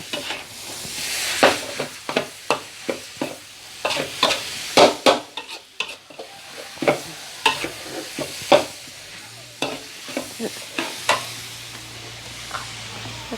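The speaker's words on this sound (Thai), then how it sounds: "ให้มันสุกผัดหมูให้สุก" Minced pork being stir-fried in a pan: a low sizzle under repeated brisk spatula scrapes and clacks, arriving in uneven bursts of strokes across the whole stretch.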